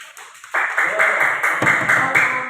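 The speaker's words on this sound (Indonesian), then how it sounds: "Tepuk tangan." Classroom of sixth-grade science students applauding during a practice teaching lesson, a burst of clapping starting abruptly and continuing steadily nearby with some voices mixed in.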